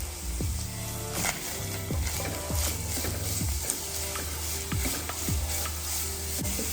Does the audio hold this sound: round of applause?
no